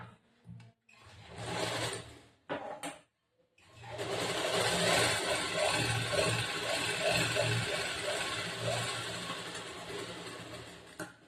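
A sewing machine stitches a back-hook blouse, starting with a few short bursts and then running in a long, steady whir with a rhythmic mechanical beat, close up.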